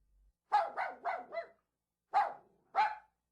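An old dog barks in a short burst of four quick woofs, then two more single barks after a pause, clear and close with no talk over them.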